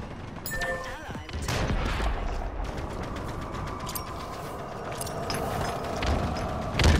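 Hip-fired gunfire in Halo Infinite during a Big Team Battle capture-the-flag match, a steady dense stream of shots with a few louder bursts, mixed with other battle noise at moderate loudness.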